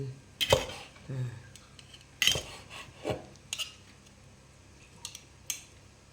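A knife slices boiled cow skin for a Thai curry, giving a few sharp, irregular cuts and scrapes against a board, close and fairly clear over a quiet background.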